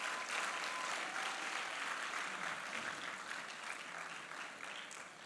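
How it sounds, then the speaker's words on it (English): A conference audience at the University of Ghana Business School applauds in a dense, sustained burst of clapping that gradually tapers off. "Ladies and gentlemen, another resounding applause for Captain."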